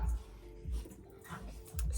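A dog whimpers and whines in short soft bursts close by indoors, with a low rumbling background and faint traces of a person nearby.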